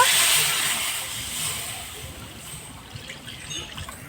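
Milk poured into a cooking pan for a chocolate semolina pitha, a steady close hissing trickle that eases off and softens toward the end.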